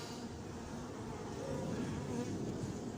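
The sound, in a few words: bees buzzing at a beehive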